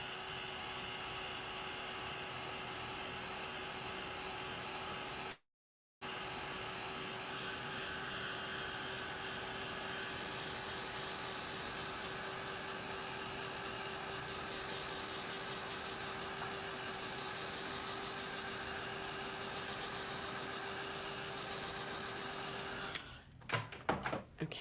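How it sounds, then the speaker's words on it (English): A heat tool drones steadily and loudly over a small mixed media collage, with a brief cut near the start and a few handling clatters as it shuts off at the end. "let me hit this with the heat tool again"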